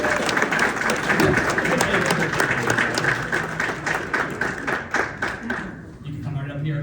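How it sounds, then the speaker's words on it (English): An audience at a magic convention lecture gives a round of applause, dense clapping with distinct individual claps, fading out toward the end as voices come through. "Can you give Michael a round of applause?"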